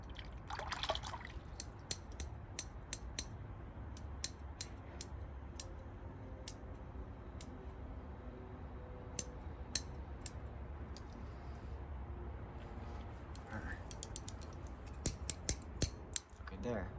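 Scissors snipping while Golden Rain seedlings are repotted, sharp isolated clicks spread unevenly over a steady low background hum, with faint trickling water sounds near the start, close and moderately quiet.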